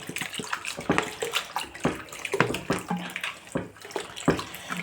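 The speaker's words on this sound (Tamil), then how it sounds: "இப்போ தண்ணி விட்டுக்கலாம்." Water is poured into a Sankara fish curry mixture, giving a steady splashing, gurgling pour with irregular bursts that runs for several seconds, close and fairly loud, with no talking over it.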